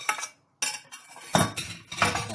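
Apple pie filling being stirred in a bowl, with quick metal-on-dish scrapes and clinks in short bursts and a brief pause near the start.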